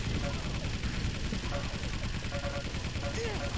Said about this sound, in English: Kills me with the machine gun!